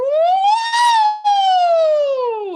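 A single human voice imitates a siren as a vocal exercise, a loud close glide that rises in pitch, breaks briefly, then sweeps slowly back down.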